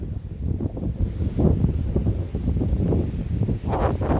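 Strong wind buffets outdoors on a night walk, a loud, continuous rushing roar that gusts and swells close to the microphone.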